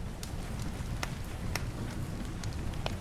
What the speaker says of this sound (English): Now, this is going to be really loud, this rain.